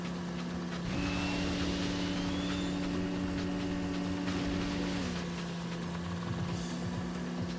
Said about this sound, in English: My car is bunny hopping.